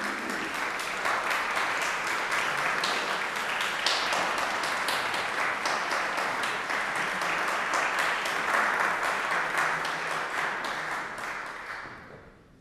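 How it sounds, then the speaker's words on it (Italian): Sustained audience applause greets a live flute performer at a concert, dense and steady for about twelve seconds before tapering off at the end, with no talking over it. "Accogliamo Bianca Maria Targa con un caloroso applauso."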